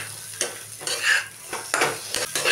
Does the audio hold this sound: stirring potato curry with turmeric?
yes